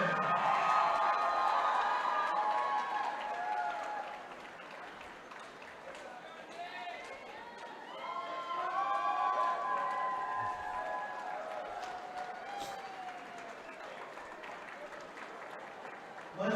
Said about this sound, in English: Let's give one more round of applause for all of our unified swimmers, the men and the women.